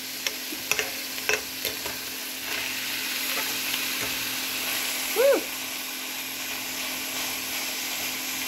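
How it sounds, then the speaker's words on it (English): Meat fries in a big uncovered pan, giving a steady, close, broadband sizzle with occasional scraping and clinks from turning it, plus a brief voice in the background. "then try to turn some meat."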